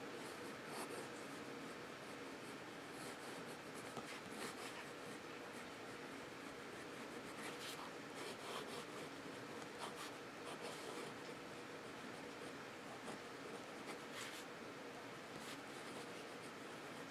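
A Wave Webson Gill fountain pen with a fine nib writes on paper, giving a steady, soft scratchy rasp with small strokes and ticks. The sound is close and continuous over a faint background hiss, with no talking.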